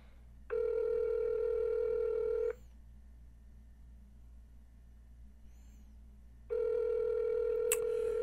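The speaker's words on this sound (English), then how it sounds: "See if she'll answer the phone." A telephone call rings out unanswered. Two long, steady electronic ringback tones sound about four seconds apart, separated by quiet line hiss.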